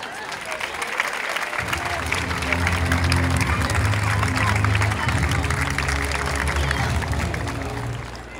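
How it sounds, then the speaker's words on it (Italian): Sustained crowd applause fills an outdoor square during the athletes' lap of honour, dense clapping mixed with crowd noise that swells in the middle and continues steadily throughout, with voices faintly present underneath. "lungo e ininterrotto applauso."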